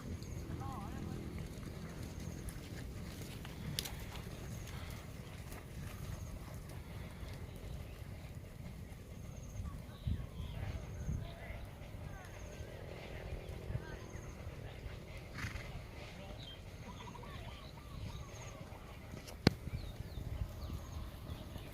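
Horse hooves clip-clop faintly and irregularly outdoors as horses settle after a run, under wind noise and someone talking at length.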